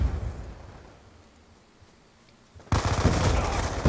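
Black Ops 2 multiplayer: loud rapid gunfire and blasts burst in abruptly after a quiet, fading lull, dense and continuous to the end.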